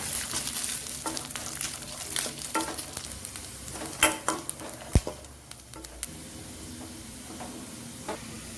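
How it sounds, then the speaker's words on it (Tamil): Small pieces of coconut sizzle and crackle in hot ghee, with scattered pops and a few stirring clatters against the pan. "கொஞ்சமாக தேங்காயை கட் பண்ணி போட்டு அதில் வதக்கி எடுத்துக்கலாங்க."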